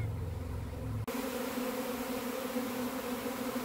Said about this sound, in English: Mess of bees in the air.